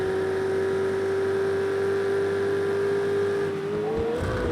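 A race car engine screams at high, steady revs on the long straight at Monza in Project Cars 2, loud and close, then dips briefly as the car brakes and shifts near the end.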